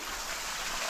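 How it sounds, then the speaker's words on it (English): Water drips and trickles from moss onto rock at a rock heritage preserve, a steady, dense wash of wet patter with no distinct pauses. "You can see where the ground is starting to drip right there"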